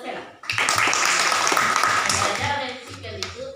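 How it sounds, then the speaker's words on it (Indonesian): Pupils in a classroom break into loud, dense clapping for a classmate, rising abruptly, holding steady, then tapering off with voices chattering underneath. "Tepuk tangan buat Sela"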